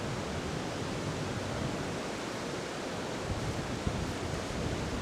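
Ocean waves breaking on a shore roll in as a steady, dense wash of surf, constant and fairly soft with no distinct individual crashes, alone without voices.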